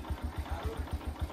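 A motorcycle engine idles nearby with a steady, low, rhythmic thumping pulse, moderately quiet and without voices.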